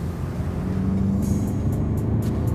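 A 2018 Mercedes-Benz car accelerates under heavy throttle with a steady, close engine and road rumble from inside the cabin, a few brief higher clicks or ticks sounding partway through.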